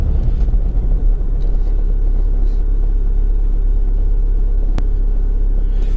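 A 1999 Toyota MR2 GTS Turbo engine running close by, a loud, steady low-pitched rumble and drone with a few subtle swells, and no talking.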